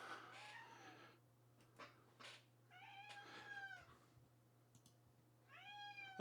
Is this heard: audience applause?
no